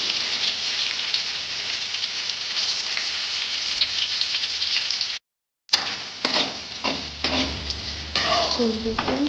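Onions frying in a pan for upma give a steady, close hiss and crackle. The sizzle cuts out briefly, then returns with clinks and scrapes of stirring.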